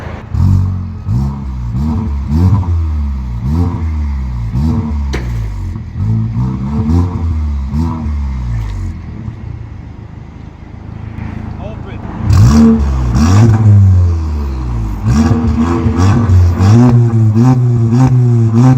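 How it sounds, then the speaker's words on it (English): A VW Golf MK7 GTI engine revs repeatedly through a loud valved aftermarket exhaust with new downpipe, rising and falling in pitch, dipping briefly before surging again; nearby voices talk over it. "Yeah, rev it. See what it sounds like."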